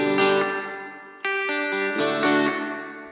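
Electric guitar played through a Roland Cube Lite amp with spring reverb: a few picked notes and chords ring out with distinct attacks, each decaying in a wash of reverb, played alone with no voices.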